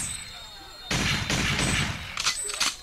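Loud blasts of gunshot sound effects burst out at a 1999 Queens, New York sound clash, a dense volley followed by a few sharper cracks near the end, standing out over the crowd and sound-system noise.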